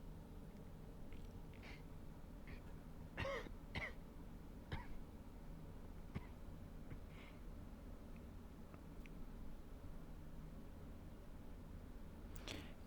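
A few quiet coughs and throat-clearing sounds from one person, scattered briefly over a faint, steady background hum.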